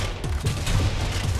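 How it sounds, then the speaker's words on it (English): Machine gun fire in Zombie Army Trilogy rattles in a dense, loud burst of rapid shots across a short stretch, mixed with game noise and some speech. "There's another machine gun on the left"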